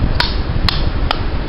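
Three evenly spaced sharp taps of a rubber hammer on a Harley Davidson rear master cylinder held in the hand, close and distinct over a steady background rumble.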